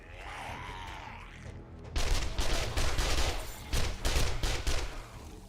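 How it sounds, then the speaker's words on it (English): Hip-fired SMG bursts crackle in the video game 7 Days to Die: a whooshing swell first, then several rapid, loud automatic volleys in quick succession with brief gaps. "Hip firing the SMG."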